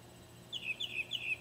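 A small bird chirps in a short run of three quick, high tweets that sit fairly close over a quiet indoor background, with no voices.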